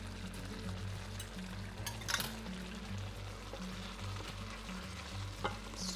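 Turmeric paneer for Kashmiri chaaman fries in ghee in a pan, giving a steady, close sizzle that crackles evenly throughout with small bursts of spattering.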